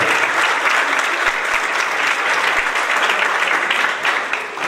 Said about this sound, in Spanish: Recibamos con un fuerte aplauso a nuestro ponente